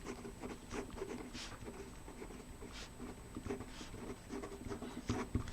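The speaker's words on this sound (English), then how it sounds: "I'm going to write it down." Writing by hand on a board: soft scratchy strokes and taps come in short irregular bursts, close and fairly quiet, with no speech.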